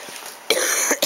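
Three quick, rough coughs follow a steady background hiss: one longer burst and then two short ones close together, near and fairly loud, with no talking.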